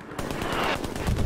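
A Thompson submachine gun fires a rapid, rhythmic burst of shots in the World War II shooter game Hell Let Loose, close and sharp for just over a second.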